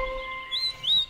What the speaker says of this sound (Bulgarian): Канарче.